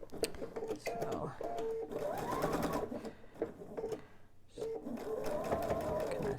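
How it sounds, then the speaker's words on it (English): A sewing machine stitches a quarter-inch seam while piecing a quilted table topper, running in steady whirring bursts close by beneath a speaking voice. "I'm going to sew that same 1/4 inch seam."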